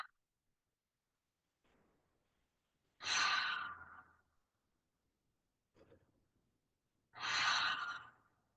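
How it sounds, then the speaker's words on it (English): Two long, breathy ujjayi ocean-breath exhales, fogging-the-mirror style, each a few seconds long and close to the mic, with softer inhales in the quiet gaps between. "the ujjayi breath on the exhale, or the ocean breath on the exhale"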